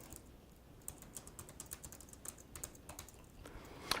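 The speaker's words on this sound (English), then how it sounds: "I can enter information on my keyboard." Fingers type information into form fields on a computer keyboard: quiet, quick clusters of light key clicks at close range, with no voices.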